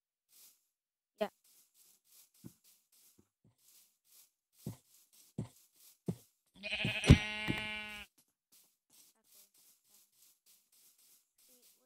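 A single Minecraft sheep bleats once, a wavering, nasal baa lasting over a second, set among sparse soft in-game clicks and block taps in an otherwise quiet scene.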